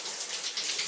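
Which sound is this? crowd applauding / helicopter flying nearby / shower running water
shower running water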